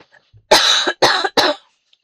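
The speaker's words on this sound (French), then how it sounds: "Je tousse quand même moins, mais il y a des moments c'est compliqué." Three harsh coughs in quick succession, close and fairly loud, the first longest, with brief quiet before and after.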